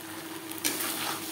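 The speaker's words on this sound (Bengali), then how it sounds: "3-4 মিনিট নাড়াচাড়া করে নেব" Boiled potatoes with spices frying in a pan for a Bhangor fish curry, a steady close sizzle with a brief stir near the middle.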